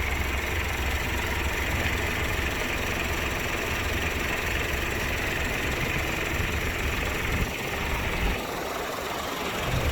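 Heavy machinery engine idling with a smooth, steady low drone, constant and moderately distant, with no voices over it.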